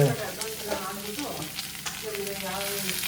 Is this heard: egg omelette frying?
yes